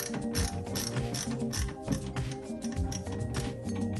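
A ratchet drives the mounting screws of a speaker in a 2025 Subaru Crosstrek: rapid, loud, close clicking of the pawl in quick bursts, with no voices over it.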